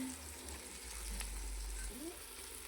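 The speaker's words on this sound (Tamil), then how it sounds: "தக்காளி நல்லா வதங்கணும்" Tomatoes sautéing in a pan give a faint, steady sizzle close by, with a low rumble underneath and a brief soft voice-like sound.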